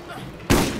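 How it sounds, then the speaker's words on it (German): A grenade explodes in the shooter game Borderlands, one sudden loud burst with a broad noisy tail cutting in after a quiet moment of low background sound. "Ich schmeiß einfach mal die Granate."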